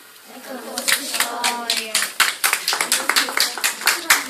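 Audience clapping at a school performance, rhythmic claps from a group building up after voices, with sharp individual hand strikes close by over a murmur of talk.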